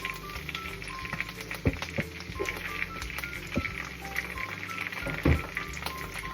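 Hotdogs sizzling in a frying pan, a steady close crackle and hiss running throughout with scattered sharper pops and a few utensil knocks.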